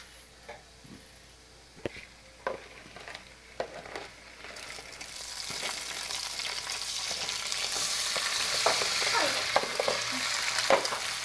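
Live small talangka crabs tossed into a pan over sautéing garlic and onion; scattered clicks and taps give way to a loud, steady sizzle that swells and hisses continuously, with no talking.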